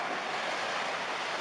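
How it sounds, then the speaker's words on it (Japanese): A tsunami's second wave surges over a seawall in Japan during the November 2016 earthquake. It is a continuous, broad roar of rushing water, heard alone in a short stretch with no voices. "ついに堤防を乗り越えて津波の第2波が来ました。"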